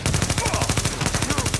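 Rapid bursts of gunfire in the video game The Division rattle continuously, loud and close, with a dense stuttering rhythm throughout.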